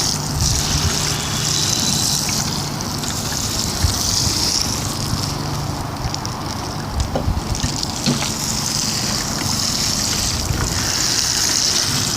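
Water sprays steadily from a garden hose onto spring plants and tulip beds, a continuous hissing gush with slight shifts as the stream moves, close by and alone.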